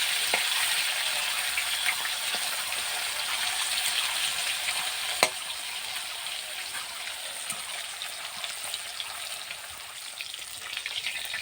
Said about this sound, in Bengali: মাছটা খুব ভালো করে লাল লাল করে ভেজে নেব।